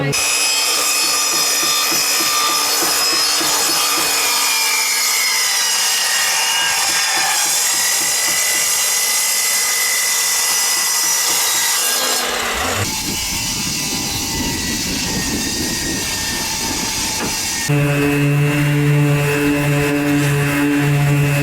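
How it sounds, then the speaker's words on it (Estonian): Steady rasping of sanding on the inner wooden boards of a small playground sailboat runs throughout, loud and close, with the tone shifting partway and a brief hum near the end. "sisemised lauad tuleb veits ära nagu lihvida ja ilusamaks teha"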